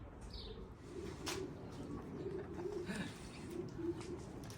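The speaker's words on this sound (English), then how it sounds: "I'm standing here before the loft of the young pigeons." Young pigeons at their loft coo in soft, repeated low warbling calls, fairly close, with a few faint chirps and brief rustles around them at quiet level.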